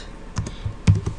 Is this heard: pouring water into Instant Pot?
no